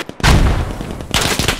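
Heavy gunfire in the Squad military shooter game, a dense barrage of close, loud shots with a brief lull in the middle before another burst of rapid fire.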